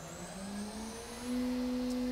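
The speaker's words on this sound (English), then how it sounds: "we're going to run this spindle at full speed" A Haas CNC machine spindle running at full speed gives a steady, loud mechanical whine whose pitch climbs slightly as it reaches top speed, with no talk.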